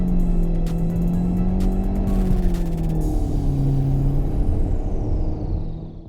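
A 2018 Mitsubishi Eclipse Cross with a CVT, in sport mode with simulated gear steps, revs with a steady, droning engine note that rises and falls across the clip and then eases off. The drone is loud, continuous and unbroken by speech.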